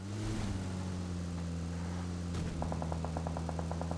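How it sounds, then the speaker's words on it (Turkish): A car approaches from behind in the PUBG Mobile video game, a steady low engine drone under loud game ambience, with a rapid series of short clicks toward the end. "Arkadan araba geliyor."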